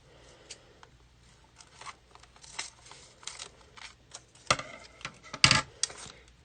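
Scissors trimming a piece of soft stretch Lite heat-transfer material: a run of small snips and crisp cuts, quiet and close, building to a couple of louder clips near the end.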